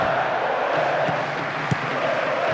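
Stadium crowd noise from the Pro Evolution Soccer 2010 football video game, a steady broad roar of cheering spectators running throughout with a couple of brief louder bursts, no speech over it.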